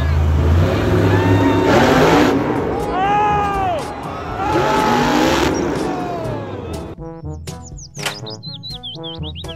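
A monster truck engine revs in swelling, rising-and-falling surges, loud and close, with a crowd-like din behind it before chirpy effects take over near the end.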